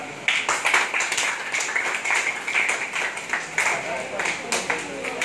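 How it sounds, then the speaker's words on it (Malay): Audience at a Malay poetry discussion class claps in uneven bursts, a scattered patter of hands, moderately loud, with some voices mixed in. "Tepuk tangan hebat"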